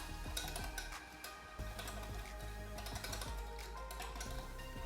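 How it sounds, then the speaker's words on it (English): A whisk rattles quickly against a bowl as a marinade with smoked paprika and garlic powder is mixed, a fast ticking clatter that stays faint and steady over a low background hum. "I'm just going to whisk all that together"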